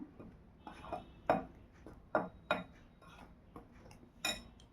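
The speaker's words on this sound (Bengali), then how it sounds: "খুব ভালো করে এই সমস্ত উপাদানগুলোকে মিশিয়ে নিলাম।" Face pack ingredients stirred in a bowl for a homemade ubtan, with spoon clinks and taps against the bowl at irregular intervals, close and quiet with no talk.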